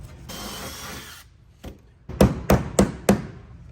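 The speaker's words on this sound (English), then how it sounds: "I'm gonna drill my full length, my forward piece first" A drill whirs briefly into pontoon deck trim (rub rail), then four sharp, evenly spaced knocks ring out loud and close.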